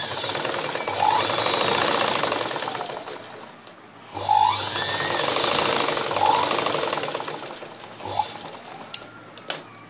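A sewing machine stitches a blouse dart in steady, loud running bursts, pausing briefly around the four-second and eight-second marks before starting up again, with no voices.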